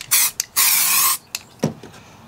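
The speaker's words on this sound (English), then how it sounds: "just spray on the Fabric Fusion" Aleene's Fabric Fusion adhesive sprays from an aerosol can onto fabric and cardboard for a lampshade bowl craft: a short hiss, then a longer sustained spray, followed by a few quick puffs, close and loud with no talk.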